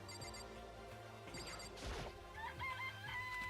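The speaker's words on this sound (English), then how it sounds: "It's a chicken. It's really alive, right?" Chicken clucks and crowing-like calls from the video game Danganronpa: Trigger Happy Havoc, faint bursts of clucking over a soft game music bed, a few short calls with brief pauses.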